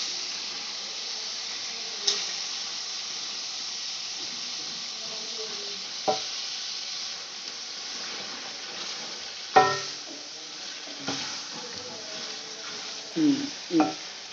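Chicken pieces hitting a hot pan with chopped tomatoes and green chillies, with a steady low sizzle and occasional stirring clatters and scrapes throughout.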